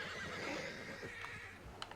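Morgan horses in the Red Dead Redemption 2 video game neigh and whinny in one continuous call, fairly close and alone with no talking, ending in a few faint clopping sounds.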